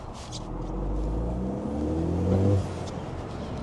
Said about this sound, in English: don't know if you can hear the little turbo then